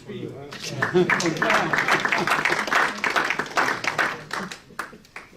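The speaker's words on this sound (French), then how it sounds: "Vous pouvez l'applaudir hein" An audience at a Charolais tasting gathering bursts into dense, loud applause that swells and then tapers off over several seconds, with a voice speaking over the clapping.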